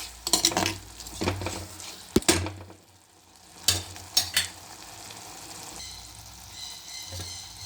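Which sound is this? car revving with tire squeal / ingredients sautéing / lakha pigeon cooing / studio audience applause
ingredients sautéing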